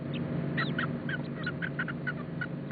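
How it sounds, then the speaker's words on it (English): Chickens given as a gift along a river journey on the Congo cluck and call in a string of short, repeated squawks over a low steady rumble, fairly near and moderately loud. "a gift of chickens I hadn't the heart to eat"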